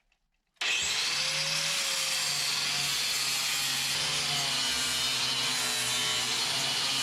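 Angle grinder fitted with a new flap disc cutting into the sheet-metal body of a 1992 Dodge Colt, starting abruptly and holding a loud, continuous harsh whine with a steady grinding rasp throughout, close up.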